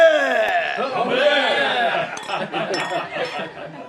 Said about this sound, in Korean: 신부를 위해 모두 축배를 들었다